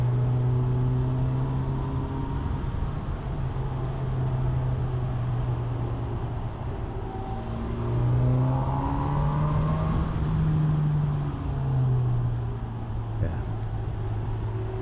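A Honda CB1000R Neo Sports Cafe Racer motorcycle engine drones steadily on a test ride, its pitch climbing and shifting through gear changes under wind rush, with a rider talking over it.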